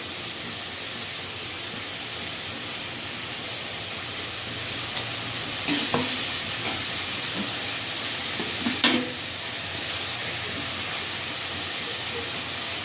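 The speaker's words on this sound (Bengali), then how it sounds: "আর টমাটো দিয়ে মশলাটা ভালো করে কষিয়ে নেব।" Spice paste with ground cumin and tomato frying in a pan for a small rohu fish curry: a steady low sizzle runs throughout, with two brief scraping stirs near the middle, and no voices.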